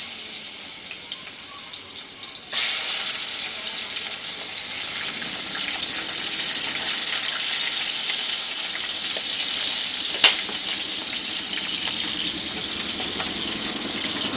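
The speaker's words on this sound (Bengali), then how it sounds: "এখন আমি মাছগুলোকে ভাজার জন্য দিয়ে দিচ্ছি।" Prawns drop into hot mustard oil and a loud, hissing sizzle starts abruptly, then carries on steadily with occasional sharper spits and crackles.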